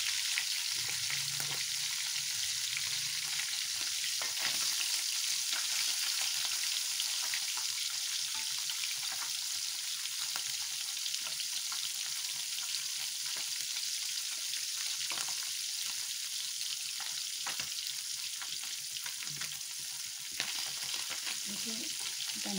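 Fish frying in a pan, a steady loud sizzle and crackle of hot oil that runs throughout, with occasional stirring scrapes and light clatter close by.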